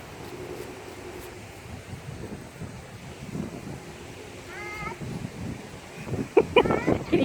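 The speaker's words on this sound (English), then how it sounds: "Can you guys see the wind blowing?" Strong wind blows across an open outdoor spot on a very windy day, a steady blustery rumble buffeting the microphone throughout, with faint voices and a few short high squeaky calls near the end.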